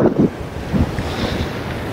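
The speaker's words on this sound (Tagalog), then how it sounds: "Sobrang lakas po ng alon" Strong ocean waves surge and crash at a beach in Vigan City, Ilocos Sur, with heavy wind buffeting the microphone, a steady rushing roar with a couple of stronger swells.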